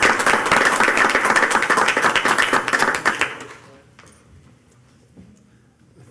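Applause and clapping from a county council meeting audience, dense and steady for about three seconds before quickly dying away into quiet room noise with a few stray claps.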